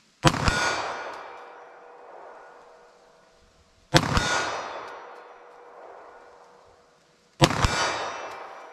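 Three sharp 9mm +P pistol shots fired at a 40-yard target, each a loud crack followed by a long echoing decay, spaced about three and a half seconds apart in slow, deliberate fire with no talking.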